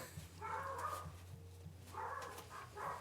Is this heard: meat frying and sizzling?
no